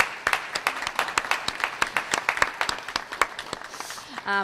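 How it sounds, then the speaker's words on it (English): A crowd claps steadily for several seconds, a warm burst of audience applause that trails off toward the end. "if we could take a second just to give them a round of applause"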